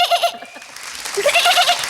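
A person's voice imitates a lamb bleating in a comedy sound-effects act, with quick wavering baa calls in two bursts separated by a brief pause, close and clear.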